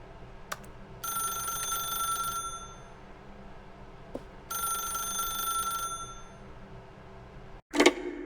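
A telephone rings in The Stanley Parable, sounding as two long electric bell trills separated by quiet, followed by a sharp click as the receiver is picked up. The ringing is moderately loud against a faint ambient hum.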